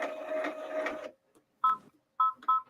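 An in-the-hoop embroidery machine runs a tack-down stitch over ribbon with a steady whirring buzz for about a second. It stops, and then a few short electronic beeps follow.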